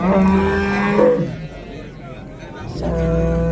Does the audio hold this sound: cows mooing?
yes